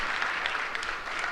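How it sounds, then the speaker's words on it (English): Audience applause at an event honouring a professor, a dense, steady wash of clapping throughout the short stretch, fairly close and even in level. "Can we give him a round of applause, please, Professor Daisley?"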